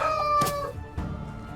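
Chickens at a henhouse in the Medieval Dynasty video game, with a crowing and clucking call rising in the first second, then fading under a steady ambient hum.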